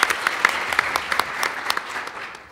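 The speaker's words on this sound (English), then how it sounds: "Please give her a round of applause, please." Audience applause for Harriet Sanford at an NEA Foundation teachers' convening, a dense burst of clapping with distinct sharp claps standing out, steady and fairly close, trailing off slightly at the end.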